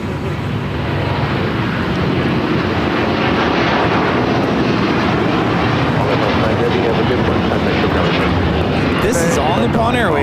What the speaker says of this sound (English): This is All Nippon Airways Flight 5 taking off to Tokyo Narita on a 787-9 Dreamliner.